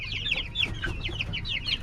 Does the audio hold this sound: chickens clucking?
yes